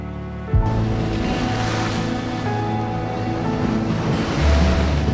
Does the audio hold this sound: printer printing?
no